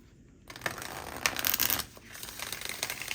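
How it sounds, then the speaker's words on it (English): Crisp papery riffling of tarot cards being shuffled, starting after a brief quiet moment, with bursts of flicking that rise and fall over a few seconds. "One more shuffle."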